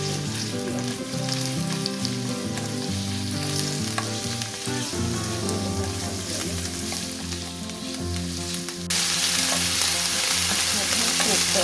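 Sliced beef with Korean seasonings stir-frying in a hot pan, a dense continuous sizzle with frequent scraping and stirring clicks throughout, growing brighter and louder toward the end.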